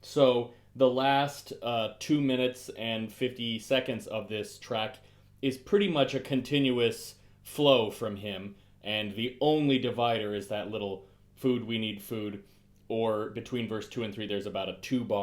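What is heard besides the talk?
No distinct noise like a dog, phone or traffic.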